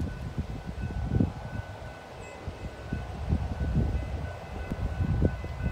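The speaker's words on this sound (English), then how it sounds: "I believe this is an eastbound B intercept train." Eastbound intercept freight train rolls past on the Tracy subdivision, a rumbling, uneven clatter of railcars with repeated low thumps and gusting wind noise, heard from trackside at moderate distance.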